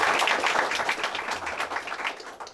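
A hall audience claps together at a Central Bank of India 105th foundation day celebration, a steady patter of many hands that thins out toward the end.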